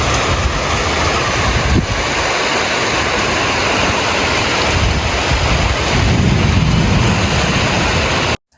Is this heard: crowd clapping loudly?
no